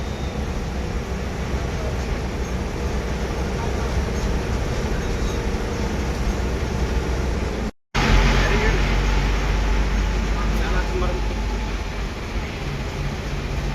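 Steady drone of an NWKRTC Tata BS6 ordinary bus driving into Nipani town, with engine and road noise filling the whole span and a brief dropout near the middle.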